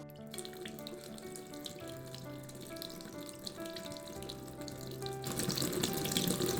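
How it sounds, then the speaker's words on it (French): Broth pours steadily into a pan of toasted fideo noodles for a seafood fideuà. A continuous close splashing flow grows louder and brighter near the end. "Maintenant, on va y ajouter le bouillon."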